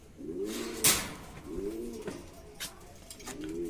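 Fancy pigeons coo in a pigeon loft, repeated throaty rolling calls close by, with occasional wing flutters and rustles between them.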